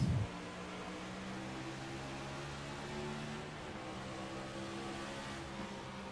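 A NASCAR Cup Series race car at the Nashville Superspeedway, heard onboard: a loud, steady engine drone with harmonic bands, a brief burst at the start and slight pitch shifts as gears change, no talk.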